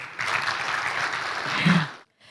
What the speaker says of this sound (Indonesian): Boleh minta tepuk tangan nih Bapak sekalian?